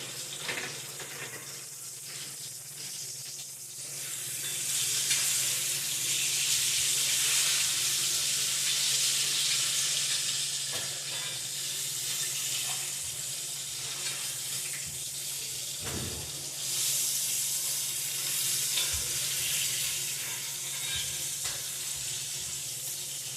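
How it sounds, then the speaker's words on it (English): Continuous bright sizzling hiss of fish frying in a pan, swelling louder after a few seconds and holding steady, with small pops and clatters. "And this fish is frying."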